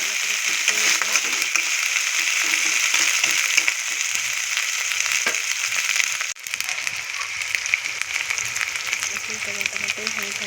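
Cumin sizzling steadily as it is sautéed in a pan for a chicken bone curry, a continuous dense frying hiss with faint stirring scrapes, close and fairly loud throughout.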